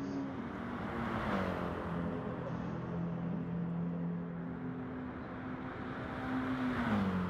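Race car engine in a racing video game at Monza, droning steadily at high speed on a straight with a rising and falling pitch, loud and continuous with no talk.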